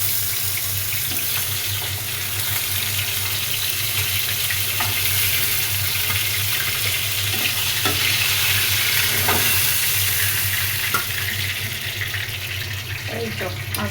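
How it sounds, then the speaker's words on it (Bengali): Fish frying lightly in oil with spices in a home kitchen, a steady close sizzle with faint stirring and scraping taps throughout, and a voice talking now and then. "মাছটা হালকা ভেজে নিলাম হালকা মশলা দিয়ে।"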